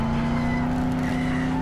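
A car in the video game Dead Island driving hard, with a loud, steady, close engine drone and a sustained tire skid tone throughout the short burst.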